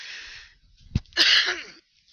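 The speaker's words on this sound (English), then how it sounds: "I don't mean to cough in your ears" A single harsh, breathy cough bursts out after a short wheezy intake of breath, close and loud, then fades.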